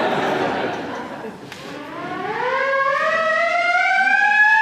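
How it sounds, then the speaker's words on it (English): A fire department hand siren cranked up during a concert performance, starting amid crowd murmur and laughter, then rising into a loud, steady wail with climbing pitch that holds strong to the end. "inton of the East Northport Fire Department, who has lent us a hand siren, which will be used in tonight's performance."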